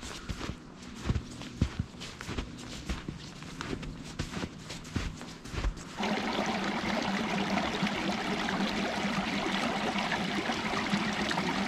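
A woodland brook keeps up a steady broadband rush, with footsteps crunching over the ground during the first half before the flowing water takes over and stays even and close.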